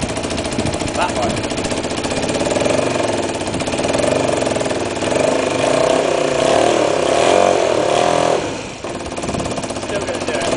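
A 250cc quad engine idles roughly on only one cylinder, a loud, close, continuous mechanical chatter with uneven pulsing that dips briefly near the end.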